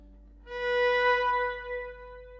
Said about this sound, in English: On my viola, that sounds like this B.